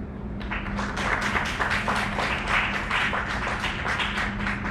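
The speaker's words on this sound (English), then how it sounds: "There's only the one patriot here that clapped for me" One person clapping alone at a town council meeting, a steady run of sharp, closely spaced claps lasting several seconds with no other applause.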